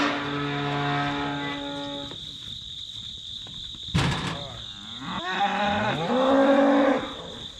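Cull cows moo while being loaded for hauling, several long, loud, drawn-out calls near at hand over a steady insect drone, with a sharp clatter from the loading in between.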